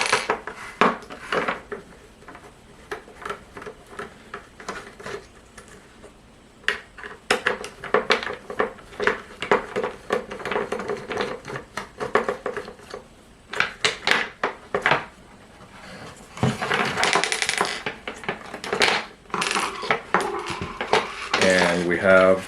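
Screws being removed from the underside of a trolling motor foot pedal, with repeated small metallic clicks, scrapes and rattles of parts and tools close by, in irregular bursts throughout.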